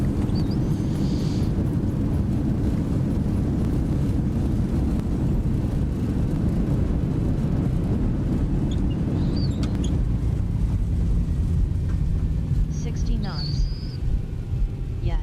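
Airliner in a Zibo mod 737 flight simulator touching down and rolling out with reverse thrust, a loud steady low rumble and roar filling the whole stretch, with occasional faint beeps and clicks on top.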